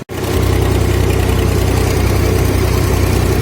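A homemade GPS-guided automatic tractor's engine runs at a steady idle, a loud, close, low rumbling throb that holds constant throughout.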